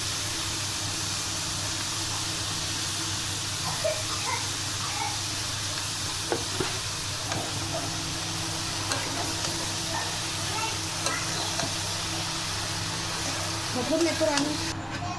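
Cauliflower stirred and frying in a pan for a Maharashtra-style gobhi dish, a steady close sizzle and hiss with occasional scrapes of stirring, while a person talks over it.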